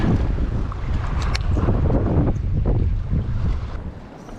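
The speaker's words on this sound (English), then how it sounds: "Goodness, that wind has kicked up." Strong wind buffets the microphone on a Jamaican beach, a loud continuous rumble with gusty surges throughout.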